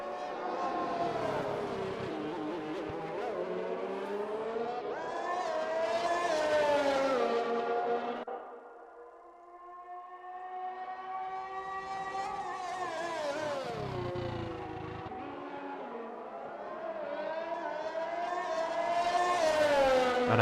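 A simulated race car in a racing video game runs down the pit straight at the Chinese circuit with DRS open, its engine note rising and falling through gear changes and dipping briefly mid-run, loud and continuous.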